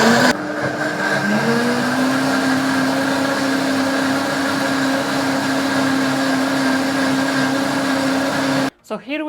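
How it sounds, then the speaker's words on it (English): An Amzchef countertop blender runs its smoothie program on milk and mint leaves, a loud, steady motor whir that climbs in pitch early on and holds for nearly the whole stretch before cutting off abruptly near the end. "From the menu I'm going to choose smoothie and press start."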